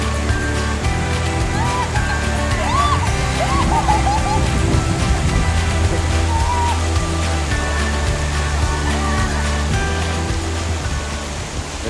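Waterfall in the Grand Canyon along the Colorado River during a rafting trip, a steady, close broadband rush of falling water that runs the whole time beneath scattered voices and chatter.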